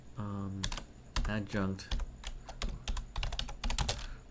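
Computer keyboard typing a folder name, rapid key clicks running steadily under a voice talking throughout.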